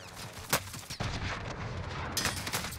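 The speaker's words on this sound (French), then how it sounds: "ça me tire dessus" Gunfire in the online shooter Warzone, a burst of sharp shots then a dense rattling stretch of firing with booms, loud and continuous through the clip with no talk over it.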